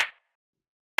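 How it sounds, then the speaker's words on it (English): A layered, punchy clap sample from a beat, almost rimshot-like: one sharp hit with a short decay, followed by silence and a second clap cut off at the end. "So the next thing we have here is the clap"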